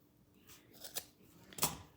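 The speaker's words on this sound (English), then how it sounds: "I think I'm gonna cut off the 2 pieces." Scissors snipping through craft material for a bunny project, a few quick crisp cuts close by in a quiet room, with no talking.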